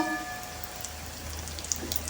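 Potato pancakes on toasted bread fry in a pan with a soft, steady sizzle and light crackling, close and continuous with no talk.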